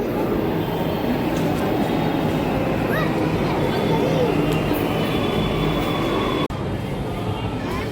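A Delhi metro train rumbles steadily through Nirman Vihar station, a loud continuous rolling drone with faint wheel squeals, while people talk nearby.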